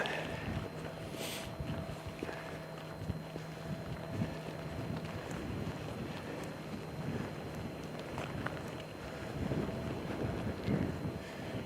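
Cold wind at minus two degrees buffets an outdoor microphone with a steady, low rumbling roar and gusty bursts throughout, fairly faint overall and with no talking.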